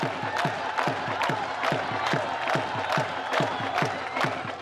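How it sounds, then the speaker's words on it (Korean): Enthusiastic crowd at a Pakistani border guard ceremony, loud rhythmic clapping in regular beats mixed with cheering and whoops, sustained throughout. "열광적인 박수 갈채 속에 국경 수비대원들이 등장합니다."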